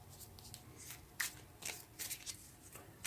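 Tarot cards are shuffled by hand at close range, quiet papery riffles and slaps coming in uneven bursts with no speech.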